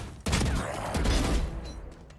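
Gunfire in the video game Valorant: a sudden loud burst opens a dense, sustained volley of shots lasting about two seconds, close and alone.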